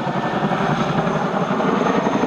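Helicopter flying in an air display, its rotor blades snapping in a dense continuous rumbling chop, loud and close, with the engine's roar filling the whole stretch without pause.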